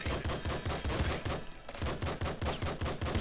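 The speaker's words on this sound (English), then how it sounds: "the goal is to kill all of the enemies in a level by shooting them to death" Rapid, steady bursts of gunfire from the top-down shooter video game Nuclear Throne, starting with a revolver, crackling in a continuous rhythm with a brief lull midway, loud and with no talking.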